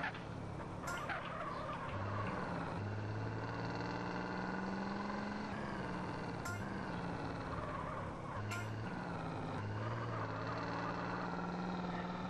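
Car engine idling in the video game GTA San Andreas, a steady low hum held throughout, with game music and a few sharp transient clicks layered over it.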